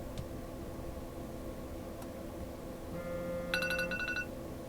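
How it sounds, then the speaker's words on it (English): A mobile phone ringtone sounds near the end as a short burst of bright electronic tones, rising over faint background hiss. "My phone's gonna go off now."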